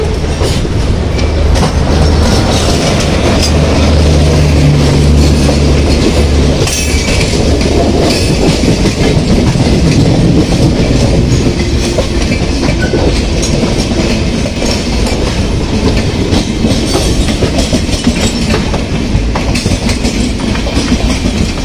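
The Rameswaram to Manduadih weekly express rolls past on the Chennai–New Delhi main line, a loud, sustained rumble with rhythmic clickety-clack of wheels over rail joints and a brief wheel squeal, heard trackside.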